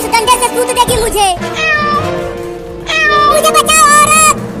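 A cat meows repeatedly in loud, drawn-out cries, mixed with a voice talking in between.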